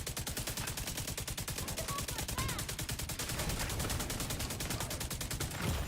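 Sustained automatic gunfire in The Division 2, a rapid, even stream of shots rattling without pause for several seconds, steady and fairly loud, with faint voice bits underneath.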